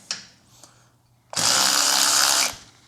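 A Parkside 12V cordless angle ratchet runs in reverse, undoing a bolt torqued to 20 newton meters: a loud, close motor whir of about one second after a few faint clicks.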